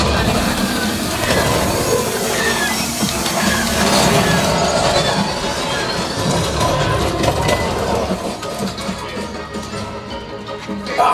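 A train in the Star Wars: Rise of the Resistance-style ride at Galaxy's Edge, Disneyland, rumbles loudly with clacking and screeching metallic squeals amid ride sound effects, easing somewhat near the end.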